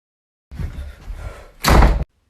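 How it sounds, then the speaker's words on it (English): A door is burst open indoors: a short scuffle and rustle comes first, then one loud, close slam that cuts off abruptly. "Do you have to bust in the door every time?"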